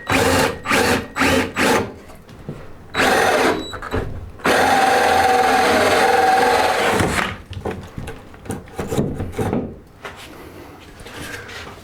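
A power drill bores holes through wooden wall studs for a double sink drain line during a bathroom remodel, running in several short bursts and then one long steady grind, with brief pauses and handling noises between.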